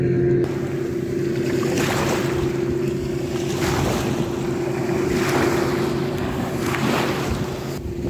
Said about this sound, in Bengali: এখান থেকে প্রচুর বোট যাচ্ছে